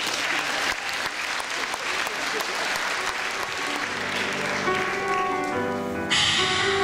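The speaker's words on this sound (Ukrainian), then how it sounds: "ваші оплески" Audience applause at a KVN comedy team show, a broad steady wash of clapping from a crowd, loud and continuous, rising brighter toward the end as music-like tones enter.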